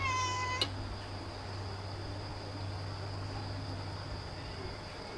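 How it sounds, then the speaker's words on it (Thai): One brief meow at the very start, then only a quiet steady hum and faint background noise. "แมวมาแล้วเนี่ย แมว แมวก็มาเลยนะครับ"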